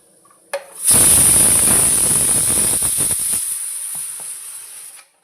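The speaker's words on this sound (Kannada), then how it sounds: "ಅನ್ನ ಇಟ್ಟಿದ್ದೇನೆ ಅದರ ಸೌಂಡ್ ಹಾಕ್ತಾ ನಿಮಗೆ" After a soft click, a loud steady steam hiss bursts from a pot of cooking rice and holds for several seconds before cutting off abruptly, close and alone.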